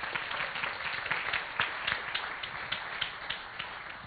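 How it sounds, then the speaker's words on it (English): A church congregation applauds in a steady, moderately dense round of clapping, with individual claps standing out slightly over the continuous patter. "Give them a round of applause."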